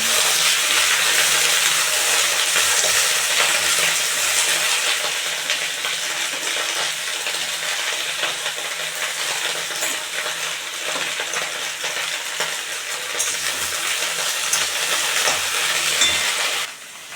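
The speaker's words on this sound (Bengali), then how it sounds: "আমি ডাটাটাও ভালো করে ভাজবো সারকলের ডাটাটা" Kharkol leaf stems fry in a pan of hot oil with garlic, giving a steady, loud sizzle that runs unbroken for the whole stretch, with faint stirring scrapes underneath and no talking.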